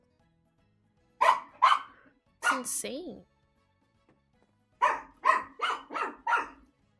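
A dog barks loudly in two bursts, a pair of sharp barks and then a quick run of four or five, with a brief spoken exclamation between them.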